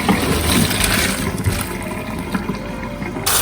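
Boiled pasta water pours out in a steady rushing splash as the pot is drained into a sink, continuing for a few seconds.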